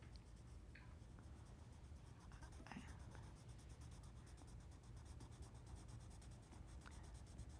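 A pencil draws on paper for a figure drawing of a geisha in soft pastels, making a steady, faint scratching and rubbing under a hiss of room noise, with no talking.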